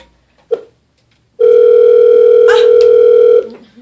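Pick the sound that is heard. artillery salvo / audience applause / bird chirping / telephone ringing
telephone ringing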